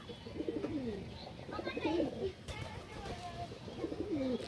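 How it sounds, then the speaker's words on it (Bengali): Pigeons coo nearby in rolling, repeated calls, with a child and an adult talking intermittently between them. "তুমি ডাকো পায়রাগুলোকে"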